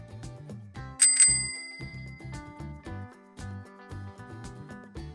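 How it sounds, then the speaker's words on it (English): A bright bicycle bell rings twice in quick succession, clear and close, over a light background melody. "Bicycle."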